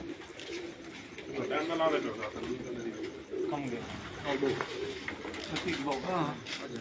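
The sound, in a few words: pigeons cooing on a rooftop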